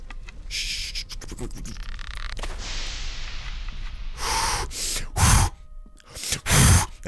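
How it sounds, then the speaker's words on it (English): In The Dark Mod video game, several short breathy puffs of blowing on a fire to put it out, loud and close, with a few rushing hisses among quieter background noise. "That's the sound of me futilely blowing on the fire in order to try to put it out."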